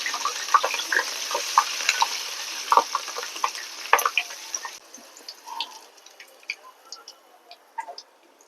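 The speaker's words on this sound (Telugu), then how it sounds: "మిర్చి ఫ్రై చేస్తున్నానండి" Chillies frying in hot oil for a crispy fried chicken dish, a steady close crackling sizzle with scattered pops and ticks, busier at first and thinning to sparser spits.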